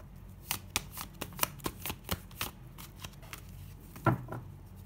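A deck of tarot cards is shuffled close by, giving a quick series of crisp riffling flicks and soft slaps in an uneven rhythm, with no talking.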